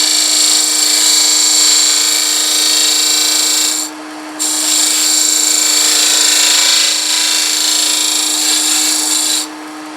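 A wood lathe turning a box blank, a loud steady hum with a tonal drone and a high whirring hiss, briefly dipping twice as the cut eases, no talking.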